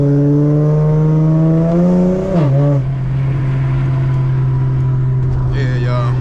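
An Infiniti G3 fitted with Berk test pipes and a Megan Racing Y-pipe launches on a cold track, its engine droning loud and close in a steady rising note. The pitch dips sharply as the tires spin, and voices talk over the engine.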